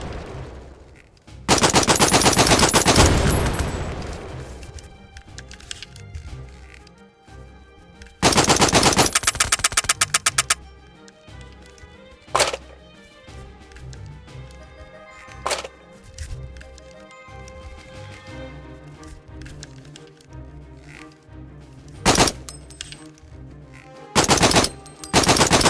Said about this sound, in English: Fire off all your remaining rounds or press the right app button now.